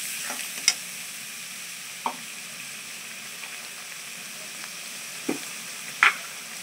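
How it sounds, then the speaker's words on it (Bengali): A spice paste frying in a pan gives a soft, low sizzle beneath a steady hiss, broken by a few sparse clinks and scrapes of a spoon stirring, close and quiet with no voices. "মশলাটা দিয়ে ভালো করে আমি কষিয়ে নেবো"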